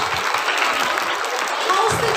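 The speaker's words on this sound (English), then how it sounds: "Come on everyone, please clap as Father Bonnie comes up to the stage." Audience clapping at a Josephite school festival as a priest comes up to the stage, a steady dense wash of many hands throughout, fairly loud and continuous with some voices mixed in.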